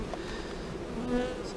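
Honey bees buzzing at a Polish apiary after a heavy linden honey flow, a dense continuous hum close to the microphone with one bee's tone briefly rising above the swarm.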